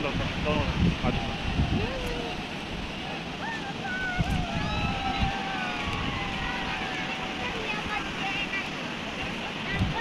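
Sea surf at Diveagar beach gives a continuous wash of waves mixed with wind buffeting the microphone, moderately loud and unbroken, with people talking faintly in the background.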